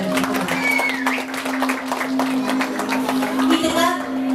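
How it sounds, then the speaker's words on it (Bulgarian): Wedding guests applaud the godparents at a Bulgarian wedding celebration in Provadiya, a crowd clapping steadily over a loud sustained hum and background chatter. "Вашите аплодисменти за уважаеми кумове"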